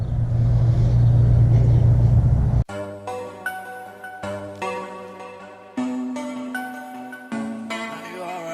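A Honda TRX450R ATV engine idles with a loud, close, droning rumble for a couple of seconds, then cuts off abruptly and music takes over.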